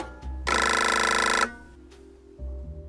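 An old-style telephone bell rings once in a loud, sustained burst of about a second inside a hotel lobby phone booth in a radio drama, with a low hum and quiet tones before and after.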